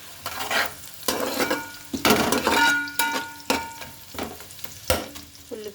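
Chopped onions and green chillies frying in oil in a pan for chicken biryani, with a close, continuous sizzle broken by loud scraping stirs and clinks of the spoon against the metal.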